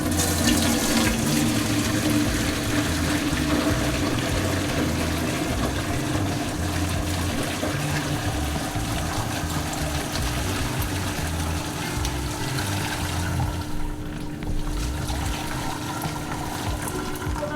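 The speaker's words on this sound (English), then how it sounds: "we're going to go ahead and strain this over the sink into another big pot" Continuous pouring and splashing of hot fish head soup through a strainer into a pot over a sink, a steady rushing flow that lasts throughout, close and fairly loud with no voices.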